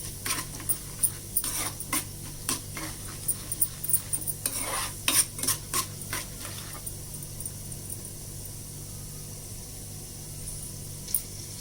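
Chana dal, urad dal, mustard seeds and cumin fry in a pan for tempering, with quiet sizzling and a run of spoon-against-pan scraping and clinks that fade out halfway through, no talking.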